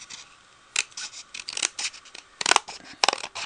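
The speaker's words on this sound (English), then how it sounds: "with my scissors now that I have a nice slit in it." Crisp snipping of scissors through paper, a series of short irregular cuts close by, with quiet rustling between them.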